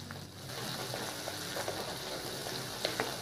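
Raw banana sizzles steadily as it sautés in a hot pan, with soft scraping and occasional clicks of stirring, no voices.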